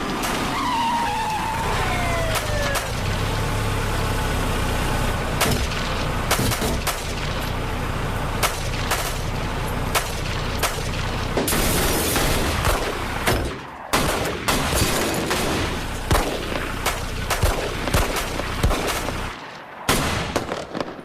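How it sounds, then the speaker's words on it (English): Gunshots in a school building during the Columbine High massacre, rendered as a dense, loud barrage of sharp cracks and bursts layered with chaotic noise throughout, sirens and skidding-like sweeps mixed in, no clear speech. "Shots fired. Shots in the building."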